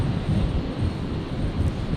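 A Dash 8 aircraft taxis out for departure at Brisbane International Airport, heard as a steady low engine rumble with a windy wash over it.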